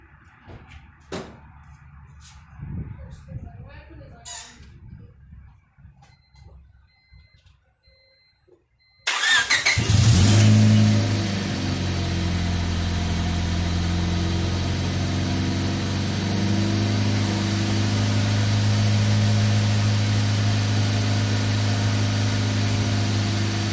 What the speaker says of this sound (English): I don't know this Honda engine that well. We'll find out. Let's start it up.